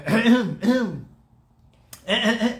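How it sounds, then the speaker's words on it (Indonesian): Three repeated throat clearings, close and distinct, separated by a short pause. "Jadi berdehem terus-terusan"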